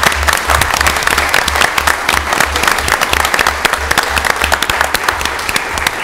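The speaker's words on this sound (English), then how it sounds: "let's give them another big round of applause" Loud, sustained applause from a city council meeting audience in Mobile, Alabama, dense clapping filling the room steadily throughout, with a low rhythmic thump running underneath.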